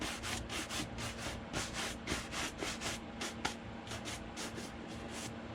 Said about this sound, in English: I'm just going to buff everything over just a little bit to get any excess off.